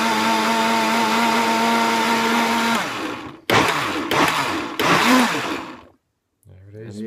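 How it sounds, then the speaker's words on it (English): Countertop blender whirs loudly and steadily while mixing chilies, red peppers, tomatoes, tomato puree, thyme and olive oil into a sauce, then cuts out and pulses in short bursts before stopping, with a brief voice at the end. "So there it is in the mixer, ready to go."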